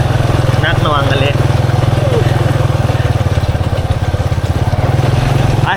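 A motorcycle engine chugs steadily at low revs, loud and close throughout, while being ridden along a rough, muddy track in the rain, with a voice briefly speaking over it.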